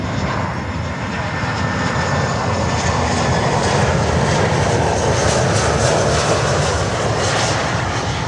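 Titan cargo aircraft landing on runway 12 at Miami airport, a loud, continuous roaring jet engine noise that holds steady throughout, close by, with no talk over it.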